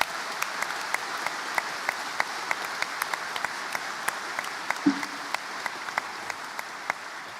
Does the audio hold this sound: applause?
yes